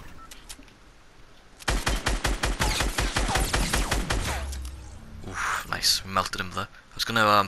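Rapid SCAR assault rifle fire in Fortnite, a loud run of closely spaced shots lasting a couple of seconds, then more bursts and game noises, with a voice talking over parts of it.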